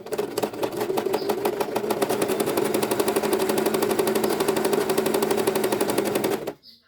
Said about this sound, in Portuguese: Vou costurar e vou dar retrocesso e vou continuar.